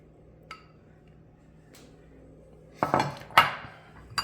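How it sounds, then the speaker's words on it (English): Three cans of tuna going into a noodle casserole: after a quiet start with a couple of light taps, sharp metallic clinks and scraping of utensils against the can and dish come in two close, loud bursts near the end. "now we're gonna put the tuna in"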